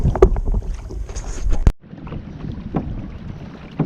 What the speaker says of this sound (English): All right, so it's pretty windy.